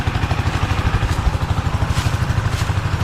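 A tractor engine chugs steadily nearby with a regular low-pitched rhythmic pulse, running continuously without pause.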